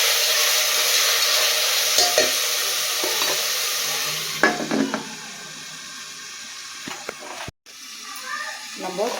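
Chopped tomatoes sauté in an oiled pan for mushroom biryani, giving a steady close sizzle broken by a few scraping stirs and one brief dropout near the end.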